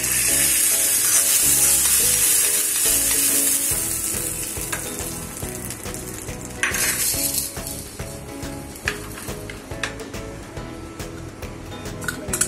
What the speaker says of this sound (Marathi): फोडणी झाली आपली. चटणीवर घालून घेऊया.